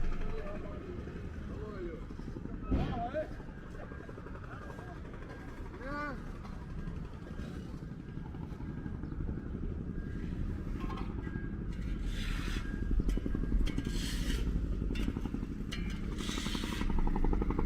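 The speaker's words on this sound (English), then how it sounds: "It sounds like a chopper." A helicopter flies over a Brooklyn street, a faint, low, steady mechanical thrum that builds slightly, heard under street noise and intermittent talking.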